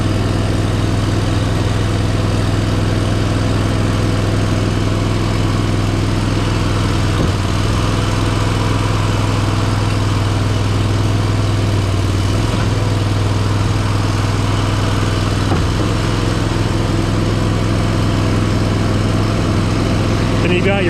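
Engine of a Toro Mud Buggy concrete carrier idling on a job site, a loud continuous low rumble with a steady hum, with someone talking over it.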